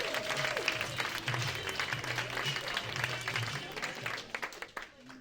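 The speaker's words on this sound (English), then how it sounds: "I want to start clapping right now for Dr. Greg Matthews, everybody." A lecture audience bursts into steady, close applause that lasts several seconds and then thins out, with a few voices and cheers mixed in.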